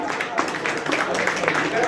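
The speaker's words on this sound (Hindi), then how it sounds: "ताली आप लोग कृपया जोर से बजावें।" Audience applause at a tournament prize distribution, faint and diffuse clapping from a crowd blended under a voice speaking over a microphone.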